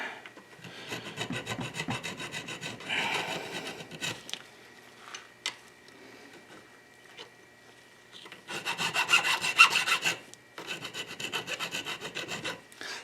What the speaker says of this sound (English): Never thought I'd have to file brake pads to get them to work.